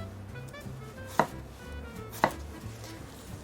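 A knife chopping through lined-up cucumbers on a cutting board for a cucumber salad, two sharp distinct chops about a second apart plus a third at the end, over faint kitchen background hum.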